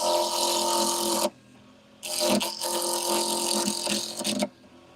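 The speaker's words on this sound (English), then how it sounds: "But let's get this turned. So I'm going to round it up" Spruce pen blank spinning on a wood lathe as it is rounded: two loud bursts of rattling, scraping cutting noise, broken by a short quiet gap and ending abruptly, with the lathe humming faintly between cuts.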